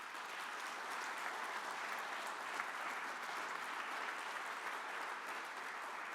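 Audience applause at a community service awards ceremony, an even, continuous patter of many hands clapping, fairly faint and distant, sustained across the whole stretch without talk.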